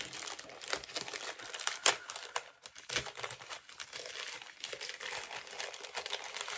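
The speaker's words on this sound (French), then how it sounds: "Donc, ça, on va déballer." Packaging being unwrapped: close, continuous crinkling and rustling of plastic or paper with sharp tearing snaps scattered through it.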